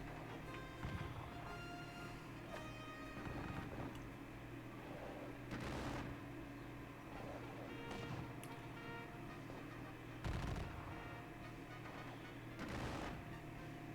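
Gunfire in a Napoleonic battle video game set at Aspern-Essling: scattered crackling musket volleys and dull booms, several seconds apart, over a constant low rumbling battlefield ambience.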